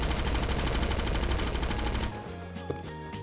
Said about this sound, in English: Oh, they are shooting at me, dude.